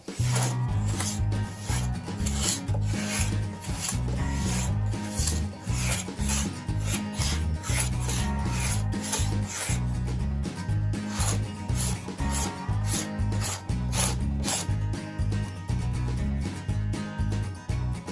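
Hand scraper shaving wood while roughing out a yew bow by hand: rapid, rhythmic rasping strokes repeat steadily throughout, close and fairly quiet, with no talk.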